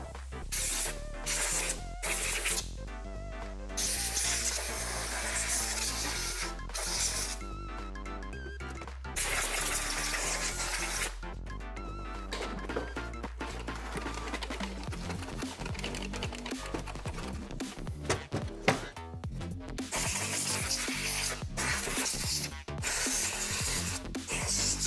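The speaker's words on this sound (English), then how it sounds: "Okay, now I will start to clean this headlight." Cleaning a cracked BMW G30 headlight lens, with steady rubbing and wiping strokes over a constant low hum, interrupted by sharp scrapes and spray-like bursts throughout.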